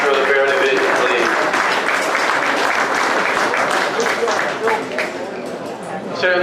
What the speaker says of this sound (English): Let's give all these exhibitors a round of applause for making it to the final drawing for the Bear Division